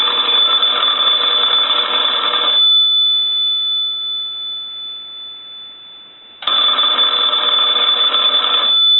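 A converted AE three-slot payphone bell rings loud and close in two long bursts with a silent gap between them.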